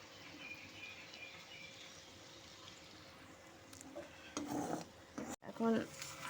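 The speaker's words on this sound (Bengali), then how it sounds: "ভালো মতো হালকা করে সমস্ত কিছু সবজির সাথে ভাতটাকে মিশিয়ে নিতে হবে" A spoon scrapes and stirs through cooked rice and vegetables in a kadai for navratna biryani, soft at first, then a few louder, closer scraping strokes near the end.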